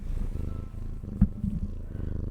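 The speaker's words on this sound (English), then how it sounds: "I hope you guys are enjoying the purrs," A cat named Velcro purrs close up in a low, continuous rumbling rhythm, with a brief bump of handling noise midway.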